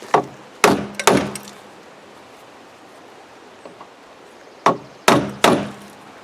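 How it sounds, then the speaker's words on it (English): Several sharp hammer taps on metal parts of a Land Rover Defender door in very poor condition, in two quick bursts, a pause between them, close and loud with short ringing decays. "We're going to give them a swift tap with the hammer"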